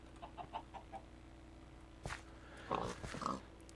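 Minecraft chickens clucking close by in a survival game, a few short soft clucks early, then louder bursts of clucking and flapping toward the end, with no talk.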